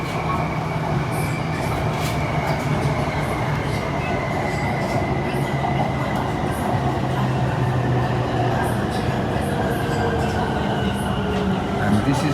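Interior of a Bangkok Light Green Line sky train in motion: a continuous loud rumble of wheels on rail, with gliding whines from the motors rising and falling and faint squeals throughout.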